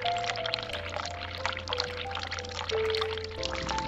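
Water pouring steadily in The Cat Lady video game, a continuous splashing stream running the whole time beneath soft game music tones, with no talking.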